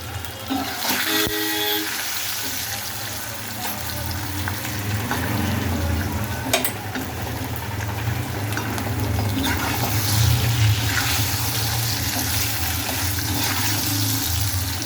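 Pieces of cut taro root (colocasia) fry in hot oil with a steady, even sizzle and bubbling, occasional stirring clatters over a continuous frying hiss without talk.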